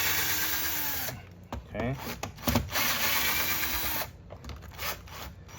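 Power drill backing screws out of a Big Green carpet cleaner, with several short whirring bursts broken by pauses and clicks, and a person speaking briefly in between.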